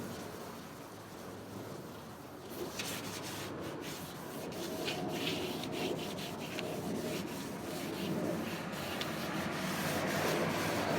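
A cloudy plastic car headlight is hand-sanded with steady back-and-forth rubbing strokes, a continuous close abrasive scratching that grows slightly louder and denser over time, with no talking.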